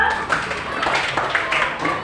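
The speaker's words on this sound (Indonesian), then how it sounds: "Tepuk tangan untuk Beto" Schoolchildren clapping in an Indonesian classroom lesson: a brief burst of uneven close applause with voices mixed in.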